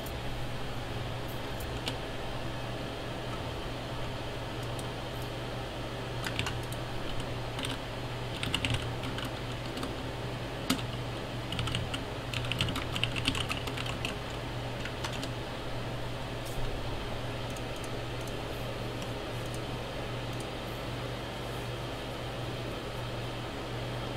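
Keys clatter faintly on a gaming computer keyboard in irregular bursts over a steady hum of fan or air conditioning, with no speech.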